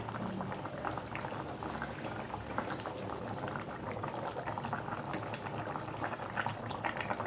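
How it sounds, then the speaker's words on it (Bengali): A pot of pabda fish curry with eggplant and potato bubbles at a rolling boil, a close, continuous, even burbling heard alone throughout. "বন্ধুরা টকবক করে মাছের ঝোল ফুটছে"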